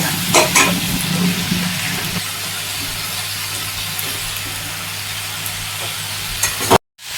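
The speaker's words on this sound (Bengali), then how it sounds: "আলু আর পেঁয়াজগুলোকে একটু লাল লাল করে ভেজে নেবো" Potatoes and onions fry in a pan with a loud, continuous sizzle and occasional stirring scrapes, then cut off abruptly near the end.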